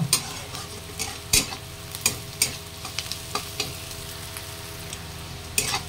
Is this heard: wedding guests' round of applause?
no